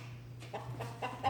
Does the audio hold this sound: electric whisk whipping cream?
no